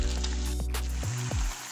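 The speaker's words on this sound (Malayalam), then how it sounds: "ഇനി നമുക്ക് തക്കാളി ചേർത്ത് കൊടുക്കാം. നല്ലവണ്ണം ഒന്ന് വഴറ്റി കൊടുക്കണം." Onion and tomato sizzling and frying in a pan, a steady close hiss broken by a few scraping stirs.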